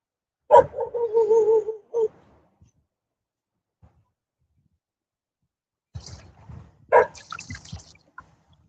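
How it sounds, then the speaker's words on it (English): Dogs barking nearby, with a short run of yelping barks, a quiet gap, then a couple more barks mixed with faint rustling. "Some doggies on the right of me."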